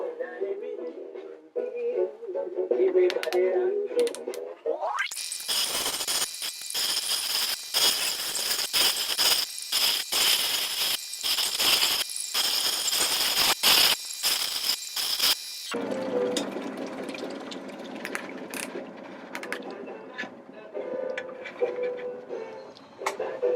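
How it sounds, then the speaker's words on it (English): Chrysoprase ground on an 80 grit hard lapidary wheel gives a loud, harsh, broadband grinding that runs steadily for about ten seconds with brief breaks, framed by the quieter hum of the running wheel before and after. "that is my 80 grit grind"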